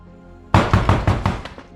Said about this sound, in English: a sudden knock on the door shattered the calm